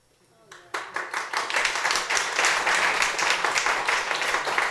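An audience at a pastors conference session bursts into applause for a speaker's presentation, the clapping starting abruptly after a near-silent moment and continuing as a dense, steady round of hands.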